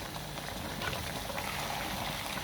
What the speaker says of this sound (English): so you need to add hot water